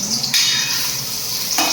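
Kitchen ladles being handled and stirred in a home kitchen, a steady scraping and sizzling wash with a brief clink, close and fairly loud, no talk.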